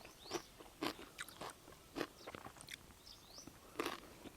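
Someone takes big bites of crisp stir-fried cabbage with fish sauce, with close, sharp crunches repeating irregularly as it is chewed, quiet otherwise.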